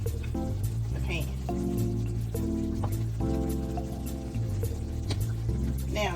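Salisbury steaks sizzle in brown gravy in a frying pan, a steady crackling hiss beneath voices and tonal sounds that run throughout.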